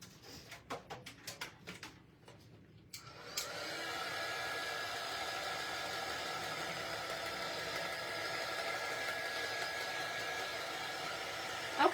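Hair dryer blowing steadily to dry glue on a mason jar door hanger, switching on a few seconds in after some handling clatter and then running as a continuous close whir.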